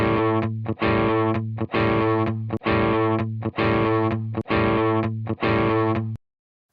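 An electric guitar strums repeated chord hits through a Tonex tube amp model, seven thick, driven stabs in a steady rhythm, each cut short by a quick mute, loud and close before stopping dead.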